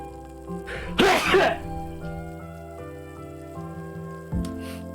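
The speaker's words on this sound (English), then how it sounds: "I'm gonna sneeze." A single loud sneeze bursts out once amid a steady tonal background hum during a stream of the game Yakiniku Simulator, followed by quieter room sounds.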